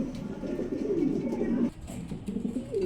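A pair of black Mundi pigeons cooing close by, low throaty rolling coos that run continuously with a brief break near the middle, with some background noise under them.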